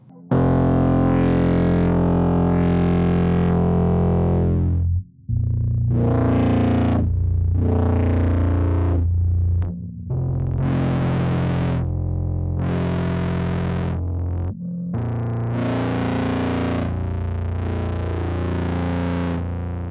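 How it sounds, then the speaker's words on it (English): A guitar played through the Paragraphs overdrive pedal with its drive turned up, giving sustained, saturated distorted chords and notes that ring for several seconds, separated by brief stops. "The red knob on Paragraphs is the drive, which sounds great on its own"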